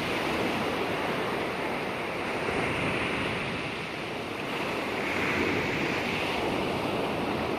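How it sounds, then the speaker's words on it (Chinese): Ocean waves wash in steadily under a breeze outside a seaside restaurant, forming a dense, constant roar of surf and wind that rises and dips slightly, with no voices. "海浪的声音，海浪的声音。"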